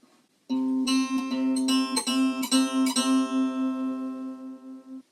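Two notes an octave apart, C3 and a C4 about 23.5 cents sharp, ring together as a sustained tone, with a steady gentle beating that makes the upper note sound a bit out of tune.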